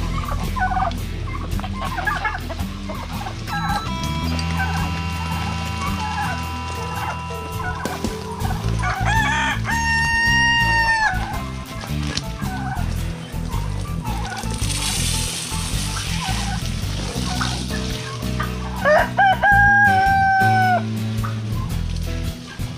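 Backyard poultry gathered around a kiddie pool give repeated loud crowing and clucking calls, separated by quieter stretches of rustling and outdoor background noise.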